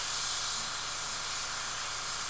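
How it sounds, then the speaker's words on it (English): Spray paint hissing steadily onto the abdominal armor of an Ork Warchanter miniature, a continuous close, even hiss for the whole stretch with no talk. "Why do I feel the need to spray underneath the abs, the little ab armor here?"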